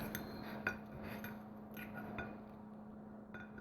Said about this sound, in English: Let's cut this open a little bit and see what we got here, guys.